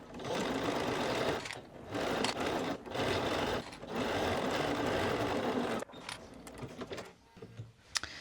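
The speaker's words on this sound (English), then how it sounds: "I am just sewing this bottom edge." A sewing machine stitching the bottom edge of a hood at a 4.0 mm stitch length, running in long steady whirring bursts with short pauses, then quieter mechanical handling at the end.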